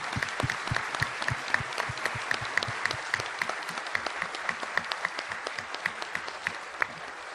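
A seminar audience gives a special round of applause for the São Paulo centre's coordination team, a steady, moderately distant wash of clapping with distinct individual claps throughout and no talk.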